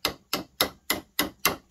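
Seven sharp hammer blows land at an even, steady rhythm, each a crisp close metallic strike with a short decay, no voices, while nailing gutter fittings near a plastic adapter.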